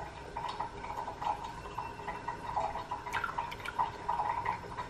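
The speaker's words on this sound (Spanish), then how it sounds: "Primero voy a ponerle el agua para cuando le eche el alcohol se evapore." Water poured into a container for a homemade garlic and alcohol remedy, a close, steady gurgling trickle with small fluctuations and no talking.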